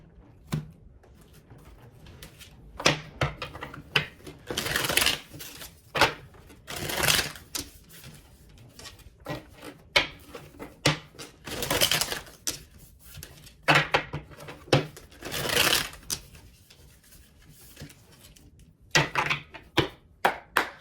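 Tarot cards being shuffled by hand: close, repeated riffling and slapping bursts in an uneven rhythm, sustained throughout with brief pauses and no speech.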